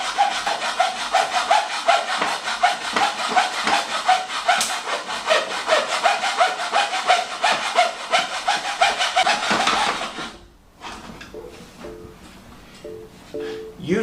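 Hand saw rasping through aluminum tubing in steady rapid back-and-forth strokes, loud and close for about ten seconds before stopping, followed by quieter handling clatter.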